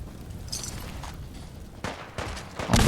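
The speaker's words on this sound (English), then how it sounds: "Oh, yep, there's the shooting." Distant gunfire in Fallout 4 during the Battle of Bunker Hill, a low rumbling background broken late by a few louder shots and a sharp burst near the end.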